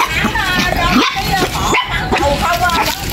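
Several dogs, abandoned on a vacant lot, yip, bark and whimper close by in a busy overlapping chorus, with people talking among them throughout.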